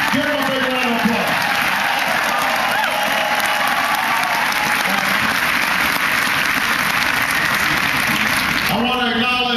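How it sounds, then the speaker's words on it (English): A large crowd at a campaign event in Des Moines bursts into sustained, loud applause with cheering, continuous dense clapping filling the whole stretch while a voice speaks over it at the start and end. "Give him a big round of applause."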